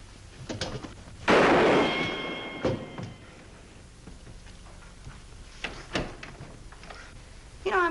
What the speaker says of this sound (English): I'm getting awful tired of shooting things out of your hand